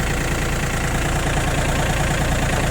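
A Japanese mini tractor's engine idles steadily, a close, even low putter with a rhythmic knocking pulse throughout and no voices.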